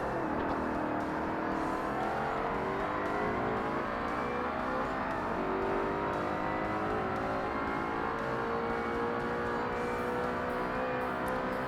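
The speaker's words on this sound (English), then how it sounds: "Does anybody know what that whining noise is? Well, the oscillating noise coming from this car" A race car engine in Forza Motorsport whines and oscillates continuously, rising and falling in pitch as it revs through gears, loud and sustained with no talk.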